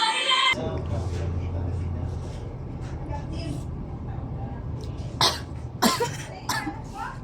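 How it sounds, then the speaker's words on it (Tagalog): Repeated coughing after eating spicy 7-Eleven ramen, a few sharp bursts near the end over a steady low rumble of room or traffic background. "watch nyo dyan yung pag-ubo ko"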